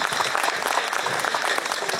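A crowd at a street demonstration in Teplice claps in a dense, even burst of applause lasting a couple of seconds.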